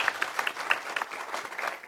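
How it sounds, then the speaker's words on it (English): Conference audience applauds a keynote speaker at an energy transition session, a moderate patter of clapping with distinct individual claps, no voices on top. "I would like to request you all to give a big applause to her vision."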